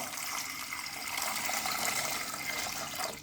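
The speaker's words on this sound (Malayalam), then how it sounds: "അതിലേക്ക് നമുക്ക് ആവശ്യമുള്ള വെള്ളം ഒഴിച്ചു കൊടുക്കാം" Water pours and splashes steadily into a metal steaming pot for a few seconds, a continuous rushing hiss that stops at the end.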